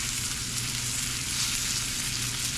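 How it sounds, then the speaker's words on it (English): Quail legs sear in a pan with a steady, even sizzle and low crackle, fairly quiet and continuous across the short stretch, with no voices. "But you're just gonna sear them"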